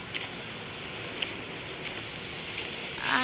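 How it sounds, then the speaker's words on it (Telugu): A train arrives in the video game Indian Bikes Driving 3D, giving a steady rolling rumble with a sustained high metallic squeal above it that grows slightly louder toward the end. "ట్రైన్ వస్తుంది గ్యాస్."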